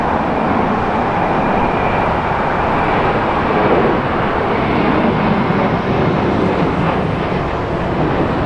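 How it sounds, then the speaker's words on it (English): A JetBlue airliner takes off at LAX with a loud, steady jet roar. The broadband rumble sustains for the whole stretch with no talk over it. "Got a JetBlue takeoff again."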